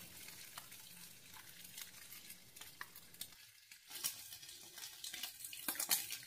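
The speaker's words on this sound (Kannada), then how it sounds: "ನಾವು ಮೊಟ್ಟೆನ ಚೆನ್ನಾಗಿ ಫ್ರೈ ಮಾಡಿಕೊಂಡು ಸಪ್ರೇಟಾಗಿ ತೆಗೆದಿಟ್ಕೋಬೇಕಾಗತ್ತೆ." Eggs frying in a pan for an egg curry with field beans hiss in a faint, steady sizzle, broken by light stirring scrapes and clicks that grow a bit busier toward the end.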